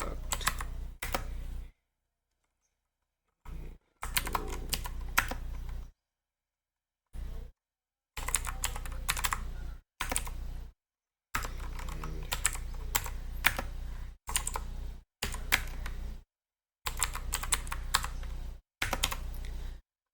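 Keys clatter in bursts on a computer keyboard as C++ code is typed, loud and close, with short silent gaps between runs of rapid clicks.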